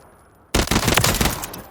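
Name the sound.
tap-fired gun in Call of Duty Modern Warfare III video game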